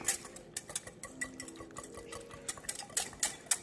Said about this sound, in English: I just gotta whisk and break that sugar down